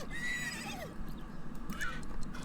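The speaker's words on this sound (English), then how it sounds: "these horse noises are really getting annoying" A horse in The Sims 3 lets out a couple of shrill, wavering whinnies, fairly close and clear over a soft game background, with faint hoof clip-clops between calls.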